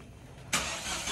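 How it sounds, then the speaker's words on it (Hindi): Small car engine cranking and catching as it is pulled out, a faint quiet lead-in then a sudden loud burst that settles into a steady running roar. "अब ये गाड़ी निकाल रहा है।"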